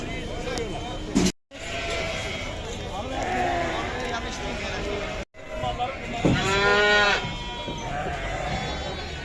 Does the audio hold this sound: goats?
yes